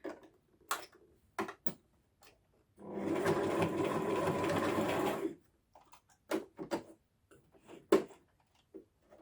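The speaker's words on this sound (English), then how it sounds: "So I've managed to sew through all of those layers." Domestic sewing machine stitching through several thick layers of a fabric bag, a loud steady whirring run of about two and a half seconds, framed by scattered clicks and handling taps before and after.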